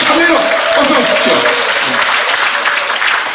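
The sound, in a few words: audience applause and cheering for the last contestant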